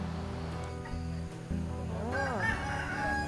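A fighting-cock rooster crows loudly nearby in a rubber plantation, its rising and falling call standing out over steady outdoor background noise.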